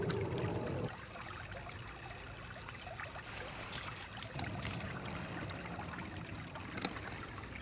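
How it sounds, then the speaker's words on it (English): Steady running water of a forest creek on a still morning, a continuous broadband rush and trickle heard alone, with a louder burst at the start and small splashes. "We both stopped to take in the sound of the running water and all the stillness in the forest that morning."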